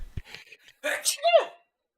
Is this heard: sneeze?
yes